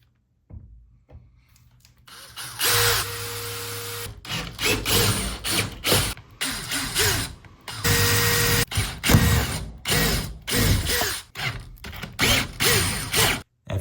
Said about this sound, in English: You can pre-drill the hole